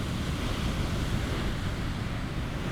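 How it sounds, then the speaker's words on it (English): Ocean waves on a beach shore, a continuous broad roar of surf mixed with wind buffeting the microphone, loud and steady with no voices. "You can hear the waves in the distance that are pretty close to me, crashing on the shore."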